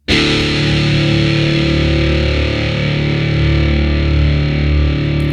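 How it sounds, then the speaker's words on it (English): A loud, distorted electric guitar chord rings out and sustains evenly, washed in reverb, holding steady for several seconds without fading. "So I hit it first, and then I hit the reverb pedal right away."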